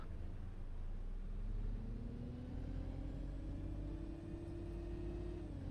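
Optare Solo bus engine in OMSI 2, a steady mid-range drone that climbs gradually in pitch as it accelerates, then holds, continuous and fairly loud with no talking.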